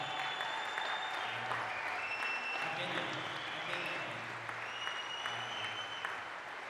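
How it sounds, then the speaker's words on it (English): Audience applause for a racquetball finalist at the US Open singles final, a steady wash of clapping heard at moderate distance with someone speaking briefly over it. "this guy deserves a round of applause"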